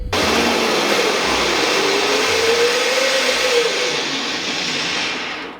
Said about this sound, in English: Sounds like a bad bearing.